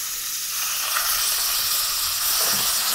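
Cumin and onion hitting hot oil for Punjabi-style rajma, a loud, dense, continuous sizzle that stays steady and close throughout.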